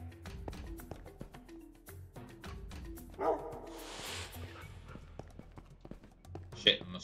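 Tamed dogs barking in Minecraft during a fight, short yapping barks scattered among game taps and clicks, with someone talking throughout.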